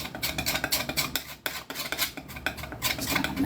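A brush or knife mixing paint colours on a palette makes rapid, repeated scraping and dabbing strokes, close and fairly loud, with a short pause midway.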